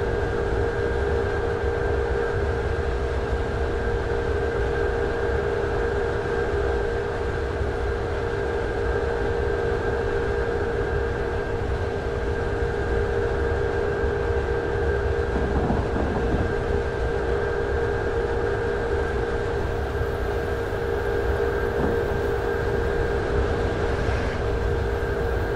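Steady, continuous rumble and hum of a train riding past Niedersdorf station on a line toward the new airport, heard from inside as an even, droning rail noise with faint humming tones and no talk.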